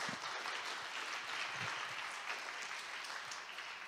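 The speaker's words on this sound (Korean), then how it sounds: "모든 영광 우리 하나님께 올려드리는 마음으로 박수 한번 할까요?" A church congregation claps together, dense, steady applause filling the room for a few seconds with no voices over it.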